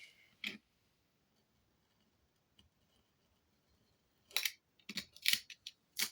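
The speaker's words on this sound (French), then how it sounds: "Et on va couper le surplus." Scissors snip off excess paper while making a rose-themed album, with a single cut early, a quiet pause with faint ticks, then a quick cluster of several crisp close snips near the end.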